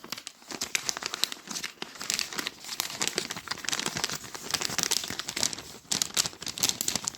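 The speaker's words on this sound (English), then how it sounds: "presents are always nice to unwrap" Wrapping paper being torn and crinkled while a Christmas (Sinterklaas) present containing books is unwrapped: close, busy rustling and tearing in irregular bursts, with no talking.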